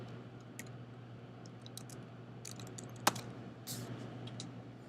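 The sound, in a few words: computer keyboard typing a file name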